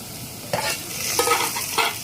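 Onions frying in oil in a pan, a steady broadband sizzle with several louder bursts as they are stirred, close and alone with no talk.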